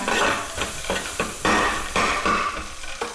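Spice masala being stirred into a chili mixture in a hot pan, with a steady sizzle broken by repeated scraping strokes of the spoon at an uneven rhythm, close and fairly loud.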